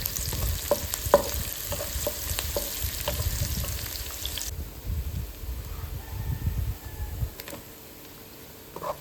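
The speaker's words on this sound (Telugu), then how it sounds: "దీంట్లోనే మనం కట్ చేసి పెట్టుకున్న పచ్చిమిర్చి ఇంకా కరివేపాకు కూడా వేసుకుని బాగా ఫ్రై చేసుకుందాం" Onions, green chillies and curry leaves frying in a pan for mutton fry, with rustling stirs and crackling sizzle up close that thins out toward the end.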